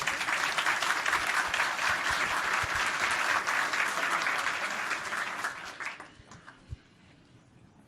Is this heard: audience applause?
yes